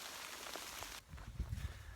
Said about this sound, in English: The rain, and then after the rain comes the cold.